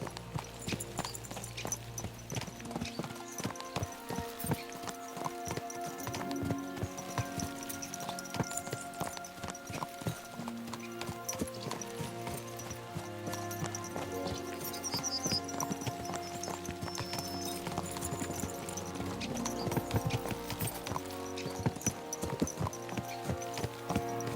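Horse hooves clip-clop steadily in the video game Kingdom Come Deliverance II, a continuous brisk rhythm of riding across the whole stretch, mixed with game music and ambience.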